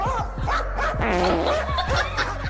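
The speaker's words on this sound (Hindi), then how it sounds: "इस वीडियो में ये कुत्ता बाहर खड़े बंदर पे भौंक रहा था" A dog barks in short, loud, repeated bursts at a monkey standing outside, the barks coming close together over a continuous background.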